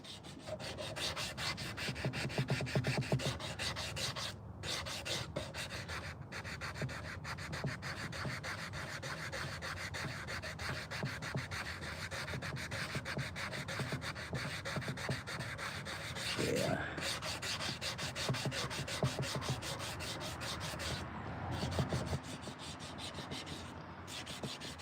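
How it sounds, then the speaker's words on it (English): A hand-carved wooden spoon is sanded by hand outdoors on a chilly morning, giving a steady, rapid back-and-forth rubbing scratch that continues throughout with short pauses. "the more you sand it, the more unusual things you uncover"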